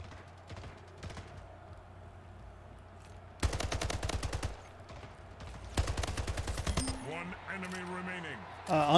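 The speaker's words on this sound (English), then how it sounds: "Unbelievably lucky headshot there with the assault rifle." Assault rifle bursts in the video game Splitgate, rapid sharp automatic shots in two clustered volleys amid quieter distant gunfire and game effects, fairly near and loud.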